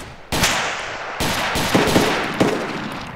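Gunfire in the DayZ video game, several loud sharp shots and short bursts cracking close by over roughly three seconds, with no talking heard.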